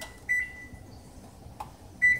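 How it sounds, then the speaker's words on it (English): An oven timer being set gives two short electronic beeps about two seconds apart, plus a faint click between them, alone in a quiet kitchen. "we're gonna put it in the oven here, and I'm gonna set my timer"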